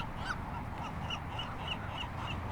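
Gulls calling along the Mission Bay shoreline in San Diego, several faint, short cries scattered over a steady outdoor background hiss, no one speaking.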